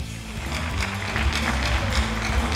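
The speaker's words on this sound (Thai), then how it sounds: "ขอเสียงปรบมือด้วยครับ" Audience at a Muay Thai championship bout clapping for a championship belt presentation, a dense, continuous wash of applause over low music.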